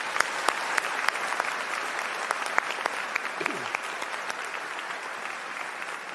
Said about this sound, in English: Let's give her a big round of applause again.